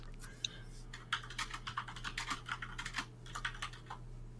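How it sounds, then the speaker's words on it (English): Someone types on a computer keyboard during an online game session, an irregular burst of close, crisp key clacks over a low steady hum. "I can hear you typing."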